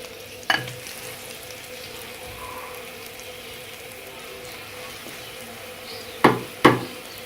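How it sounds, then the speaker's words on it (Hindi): Potatoes sizzle as they go into a hot pan for samosa filling, a steady close frying hiss broken by one sharp knock early on and two more near the end. "नाज़रीन, अब हम इसमें आलू शामिल करने जा रहे हैं।"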